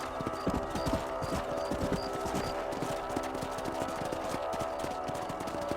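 Horse hooves galloping in the video game Red Dead Redemption, a rapid steady clip-clop rhythm over a dense background of game sound, continuous and moderately loud.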